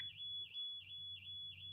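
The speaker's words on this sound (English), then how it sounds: "The hell is going on with this damn alarm?" An alarm gives five short, evenly spaced chirps over a faint, steady high tone and low background hum, with no voices.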